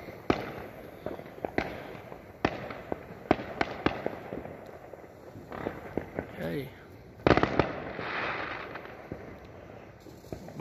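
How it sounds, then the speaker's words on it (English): Fireworks burst in a scattered series of sharp bangs and crackles, some distant and some louder, while people talk and react between explosions. "most of everyone's doing their fireworks"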